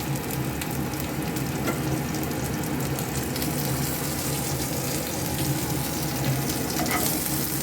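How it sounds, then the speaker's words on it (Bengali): Whole cumin seeds and chopped ginger sizzle steadily in hot oil in a pan, a loud, continuous crackling hiss with no pauses and no voices. "আস্ত জিরেটা, একটু আদা কুচি দিয়ে আমি ফোড়ন দিলাম।"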